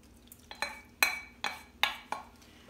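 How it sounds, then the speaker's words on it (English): Pectin liquid strained from citrus pips into food-processed orange pulp, heard as a series of about six close, sharp clinks and taps of kitchen utensils against a bowl, spaced irregularly with little background noise. "I'm going to strain that into the pulp that was done in the food processor"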